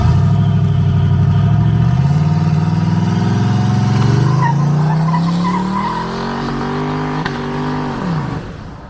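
A no-prep turbo Ford Fairmont launches down a rough dirt road, the engine roaring loud and close as its pitch climbs through a long pull, with tire squeal, before the note drops away at the end.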